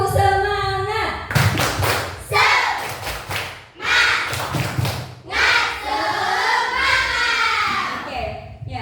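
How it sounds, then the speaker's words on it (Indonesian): Classroom of children doing a rhythmic spirit clap, bursts of patterned claps and thumps mixed with chanting voices, loud and close, with a teacher leading. "mari kita tepuk semangat dulu ya, biar kita lebih semangat"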